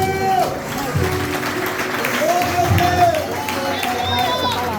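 A church congregation applauds in a scattered, ongoing patter while a preacher talks over the clapping.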